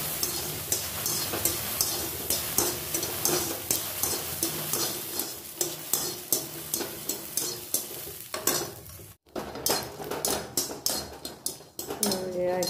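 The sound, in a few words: peanuts frying in a pan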